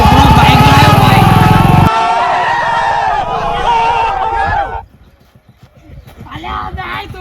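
A motorcycle engine runs loudly and steadily at close range, then drops away as the rumble fades and people chat over the lower background.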